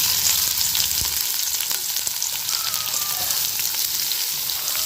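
Steady, dense sizzling of onions frying in a hot pan for semiya kichadi, continuous and close, with a few soft stirring clicks.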